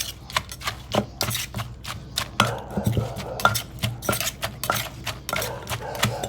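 Papaya salad with dry shrimp is tossed and pounded in a bowl, producing irregular knocks, clacks and scraping thuds at close range, some sharp and some muffled, with no voices.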